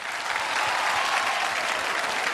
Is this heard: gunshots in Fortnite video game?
no